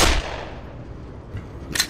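A gunshot in the video game Black Mesa opens with a sharp loud crack that quickly decays, followed by a couple of fainter thuds and a short burst near the end.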